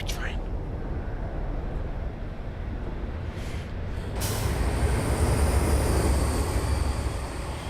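A Class 166 diesel train running on the Great Western Mainline in a train simulator game, with a loud steady rumble, an air-brake hiss rising near the end, and a voice talking over it.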